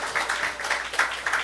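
A church congregation clapping during a Sunday service, a soft, fairly distant rhythmic patter of many hands that rises and falls for a moment.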